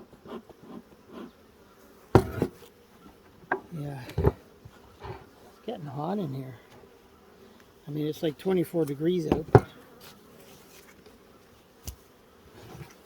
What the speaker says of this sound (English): the bees don't seem to be too happy with me right now